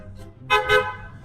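A car horn sounds two short honks in close succession, loud and near, over a faint background.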